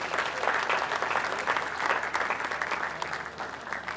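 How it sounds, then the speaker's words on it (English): Conference audience claps continuously to welcome a spoken word performer to the stage, a full, even wash of applause from a large room, with no voices over it. "let's give her a round of applause as she performs one of her spoken word pieces this afternoon"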